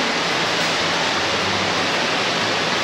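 Water pouring down a waterfall in Lauterbrunnen, Switzerland, a loud, dense and unbroken roar with a faint low rumble beneath it, heard close and steady throughout with no voices.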